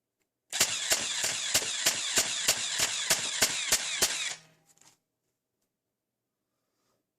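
An ANDRTI M416 launcher blaster fires on automatic, giving a rapid even burst of about a dozen sharp snapping shots over a continuous motor whir, loud and close, then stopping abruptly as the motor winds down.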